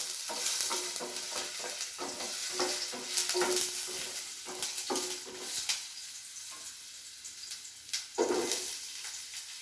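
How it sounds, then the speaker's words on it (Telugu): Ginger fries in a couple of spoons of oil in a pan, with a constant close sizzle. Frequent clinks and scrapes of a spoon stirring break through it in irregular bursts, and no one speaks. "ఆయిల్ వేసేసుకొని 2 spoons ఆయిల్ వేసేసుకొని అల్లం వేసుకుంటున్నానండి"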